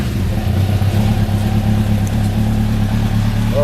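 A motorcycle engine with no exhaust baffle runs loud and close, a steady rumbling idle with slight fluctuations in pitch, no voices over it.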